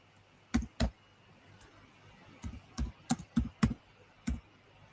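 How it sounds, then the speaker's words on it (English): A name being typed on a computer keyboard, with scattered close, crisp key clicks, a pair at first and then a quicker cluster of single strokes, against a quiet background hum. "I'm going to type it down."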